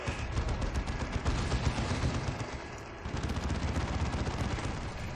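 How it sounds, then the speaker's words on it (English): Heavy bolter fire in the video game Dawn of War 2 rattles out as a dense, continuous roar of rapid shots, loud and sustained, with one brief dip partway through. "That was a good spread of heavy bolter fire there."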